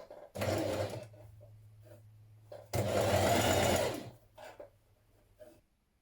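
A sewing machine stitches a small single-fold hem along the bottom of a summer dress in two bursts, each a steady buzzing run, with quieter motor idling and small clicks between them.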